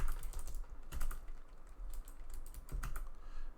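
Rapid typing on a computer keyboard, close and clear, with dense clusters of key clicks and a few heavier strikes, no voice over it.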